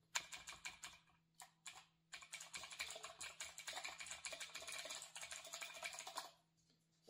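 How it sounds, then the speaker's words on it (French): Clicky blue switches on a Razer mechanical keyboard clatter in quick bursts of typing, close and crisp, with short pauses between runs and a faint steady hum underneath. "c'est les touches bleues classiques de chez Razer. Il faut écouter le bruit, vraiment le bruit."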